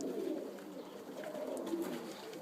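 Iraqi Basrawi flying tumbler pigeons cooing softly in a loft, low rolling coos in a continuous murmur, faint and close, with no talking.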